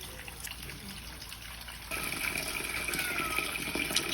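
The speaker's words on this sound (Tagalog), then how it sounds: "hugasan muna natin yung talaba para mawala yung mga dumi" Running water splashing and gushing as oysters are rinsed clean of dirt, a steady close wash that grows louder and fuller partway through, with a faint high whine behind it and no talking.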